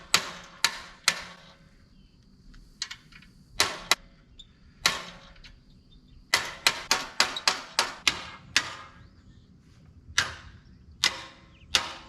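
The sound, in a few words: hammering rivets on a Chevy crew cab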